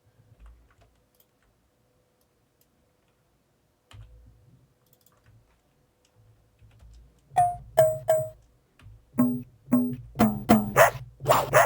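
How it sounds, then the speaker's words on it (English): Deep, synthetic-sounding dog barks played from samples, starting after a quiet stretch with faint clicks, then a run of loud barks in quick succession. "Nice, high quality, deep sampled dog barks."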